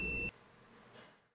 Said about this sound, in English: I'm going to touch both probes together and you're going to hear a beep.